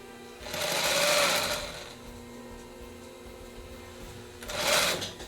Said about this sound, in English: We'll go to our widest zigzag, put our piece back in, turn our machine on,